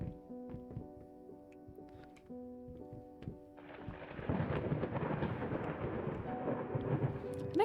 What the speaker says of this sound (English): Away from the thunder, thank God.